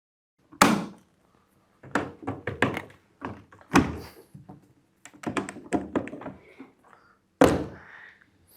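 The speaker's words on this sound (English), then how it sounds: "Slide it back on and do up your latches." Latches snapping shut on a Mopit Mid floor scrubber, a series of sharp plastic clicks and thunks in irregular clusters, close and clear, with quiet gaps between them.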